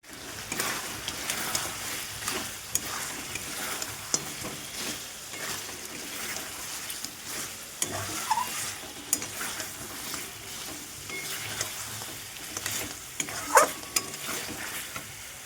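Mixed leafy greens stir-fry in a pan with a soft, steady sizzle, broken by repeated scraping and stirring strokes close by.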